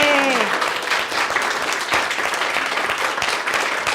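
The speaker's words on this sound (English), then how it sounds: "could we just give them a round of applause?" A crowd claps steadily in warm applause, with a brief voice over the very start, then dense clapping continues evenly throughout.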